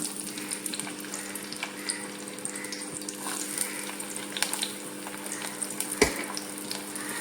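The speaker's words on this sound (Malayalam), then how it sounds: "എണ്ണ ചൂടാകുമ്പോൾ അതിലേക്ക് നമുക്ക് ഈ ഉള്ളിയും എല്ലാം ഇട്ടൊന്ന് വഴത്തിയെടുക്കാം" Onions and coconut pieces sautéing in hot oil for a dried fish curry, a continuous crackling sizzle with scattered stirring taps and one sharp knock, close and moderate in level, no speech.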